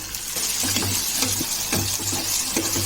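Crab curry frying in a pan as ginger paste is stirred in, with a continuous sizzle and repeated soft scraping stirs at a steady, close level, no talking.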